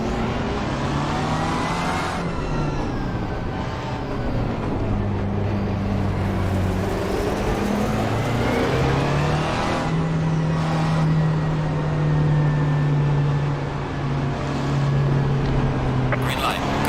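DAF truck engine in Euro Truck Simulator 2 drones steadily under road and traffic noise, its pitch rising and falling with gear changes, while someone talks over it throughout.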